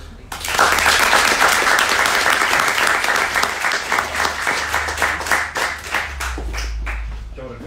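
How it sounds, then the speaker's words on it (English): A panel audience at a plastic pollution event gives a sustained round of applause, dense clapping from many people that swells quickly and gradually thins out toward the end. "A huge round of applause, please."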